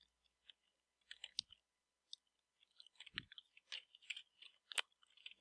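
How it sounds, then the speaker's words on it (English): Gum being chewed close to the mic, soft wet clicks and smacks in an irregular rhythm, faint and sparse at first and growing busier toward the end. "I'm eating gum."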